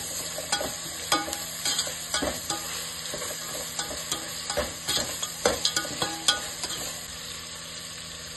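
Ginger garlic paste frying and being stirred in a pan for egg biryani, a steady sizzle broken by frequent sharp scrapes and clicks of the spoon, close and moderately loud with no talking.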